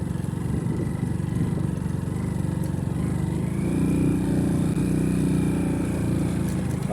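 A motorbike engine labours and revs steadily during an extreme offroad ride, a close continuous droning rumble that swells slightly louder partway through.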